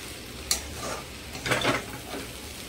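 A spoon stirs boiled potato bhujiya in a pan with the gas turned off, giving a few soft scraping and clinking strokes against the metal, close and fairly quiet.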